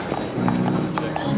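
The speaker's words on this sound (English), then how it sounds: "This is a pony." A pony's hooves clip-clop inside a hotel in a steady walking rhythm, close and clear, while a voice talks over the footfalls.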